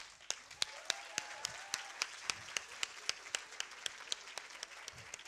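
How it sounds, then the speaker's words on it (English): An event audience claps for the kitchen team at a school prep class awards night, with sharp regular claps standing out over a broad bed of applause. "would you please clap these people who worked especially in the kitchen?"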